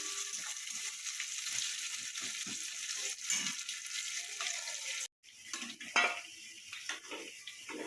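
Steady hiss of prawns frying in oil, with occasional clinks of a utensil stirring in a pan.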